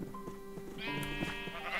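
A sheep in Minecraft gives a clear, close bleat that wavers and rises into a second bleat, standing alone for under two seconds.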